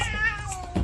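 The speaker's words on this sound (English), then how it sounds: "one of the shelter cats, Licorice, decides to show her dominance to the new cat" Licorice, a shelter cat, gives a single short, close, clear meow at a newly arrived cat, with no talking.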